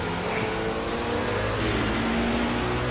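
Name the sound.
race car engine passing, from a Le Mans sim racing video game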